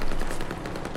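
Rapid automatic gunfire in a shooter video game, a dense burst of close, sharp shots in quick succession that lasts about a second and carries no voices.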